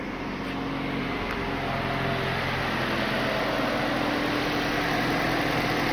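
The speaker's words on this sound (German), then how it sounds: "Und nun starten wir einmal den Motor" Car engine freshly started and idling for a head gasket leak test, a steady low hum with faint vibration, running alone without talk.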